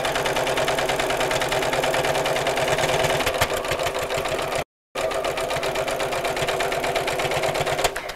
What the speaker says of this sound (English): I can simply go back to the machine and sew again closer to the piping.